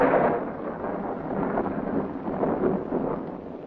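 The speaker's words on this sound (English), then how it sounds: "the wind and the rain beating against the windows" Storm noise of wind and rain beating against windows, a steady broad rumbling roar with a low thunder-like swell, fairly close and continuous, no voices.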